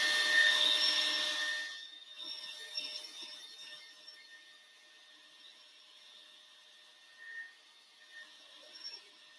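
A hair dryer blows on black paint in an art class, whirring loudly and close for about two seconds before switching off, leaving only a faint hum and a few soft bumps.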